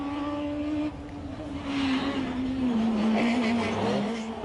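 A Skoda rally car on a special stage of the Rali Vinho Madeira 2011 passes at speed, its engine note rising and then falling away, with tyre noise under a loud, continuous drone.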